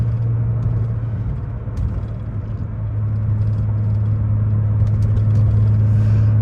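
A 1998 BMW Z3 M Roadster with its motorsport engine drives along, a steady loud engine hum with road rumble that swells slightly as it pulls, close and continuous with no talking.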